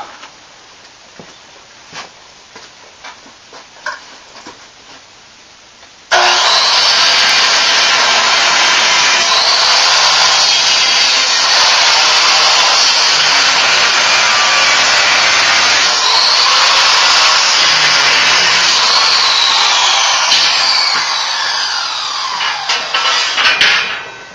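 Power saw blade cutting through the steel of a security cage being turned into a hog trap: a loud, sustained high-pitched grinding whine that starts abruptly after a quieter stretch of clanks, then holds steady before tapering off.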